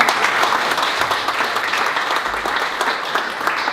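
Audience applause at a wood-block print exhibition opening in a Seoul gallery, steady dense clapping from a roomful of guests lasting the whole stretch, fairly loud and even with no break.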